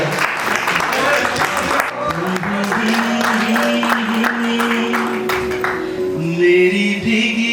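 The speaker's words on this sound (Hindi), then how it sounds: "एक बार जोरदार तालियां" Applause from an audience at a regional music festival rises and holds, while tonal musical notes and a voice begin underneath and a melody emerges near the end.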